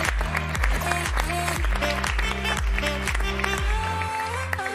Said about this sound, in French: On peut applaudir Philippe Cavrivière